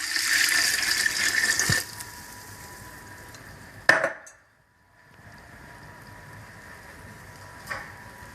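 A gallon of water pours in a rushing stream into a gumbo pot, then stops with a clunk; a quieter sloshing follows after a brief pause.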